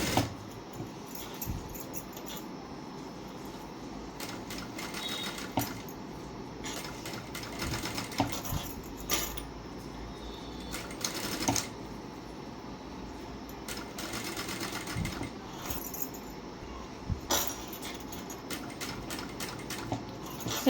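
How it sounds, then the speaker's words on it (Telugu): A sewing machine stitches the folded neckline of a plain blouse, running steadily and fairly close for the whole stretch with brief pauses and small handling clinks, no talking. "లోపల ఫోల్డింగ్ చేసుకొని 1/4 ఇంచ్ గ్యాప్లో మనం కుట్టు అనేది కుట్టుకోవాలి."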